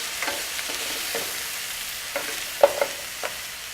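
Lobster pieces sauté in a pan, giving a soft, steady sizzle broken by a few light clicks and taps of stirring. No one speaks.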